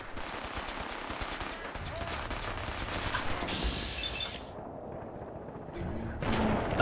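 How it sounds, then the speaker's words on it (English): Rapid, sustained minigun fire in the video game Fallout 4, a dense rattling burst that continues for several seconds and swells louder toward the end, mixed with game effects and heavy impacts. "No, I hear miniguns."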